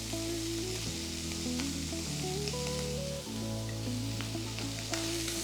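Beef strips with half an onion sizzling in a hot pan, a loud, dense, continuous sizzle close up with no talking.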